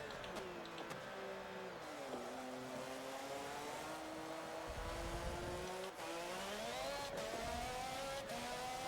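Renault F1 R.S. 17 race car in Forza Motorsport 7 at Laguna Seca, its high-pitched engine screaming loud and continuous as it climbs through the gears, with brief dips at each upshift and wheelspin under hard acceleration.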